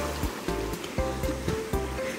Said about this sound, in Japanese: おお、波、